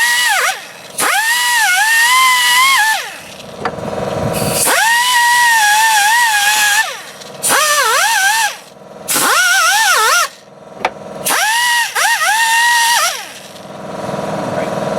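A power tool scrubs corrosion off the front wheel hub of a 2001 Buick LeSabre, whining in several loud bursts with rising and falling pitch, separated by short pauses.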